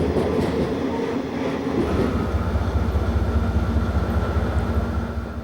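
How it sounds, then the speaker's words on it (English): Diesel locomotives haul a giant coal train toward the Port Waratah coal loader in New South Wales, a steady loud engine drone with continuous rolling rail rumble throughout, no voices. "900s head giant coal trains to the coal loader at Port Waratah"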